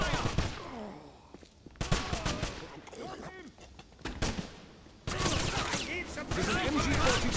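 MG-42 machine gun fire in the Wolfenstein video game, rapid bursts of gunfire in chaotic clusters with pauses between, mixed with battle noise and shouting voices.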